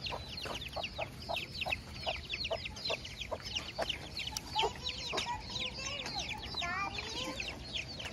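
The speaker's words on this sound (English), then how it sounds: "The mama hen over here with some chicks." A hen clucks steadily while chicks cheep in quick, high peeps all around, close by and moderately quiet, with no talking.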